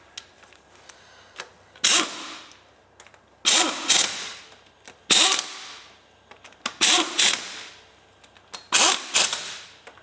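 Ratcheting wrench tightening cylinder head bolts on a Rover K-series engine during a head gasket repair, heard as five separate bursts of sharp ratchet clicks spaced about every two seconds, close and fairly loud with quiet gaps between.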